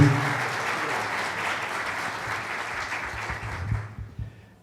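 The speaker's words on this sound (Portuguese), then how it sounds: "Uma salva de palmas." A conference crowd applauding in Curitiba, dense steady clapping from many hands that swells briefly near the end before fading out.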